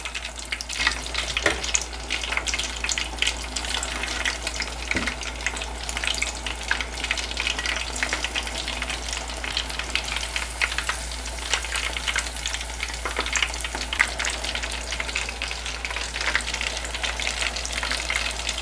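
Coconut-crusted crawfish frying in hot oil, a steady loud sizzle with crackling pops running throughout, no voices.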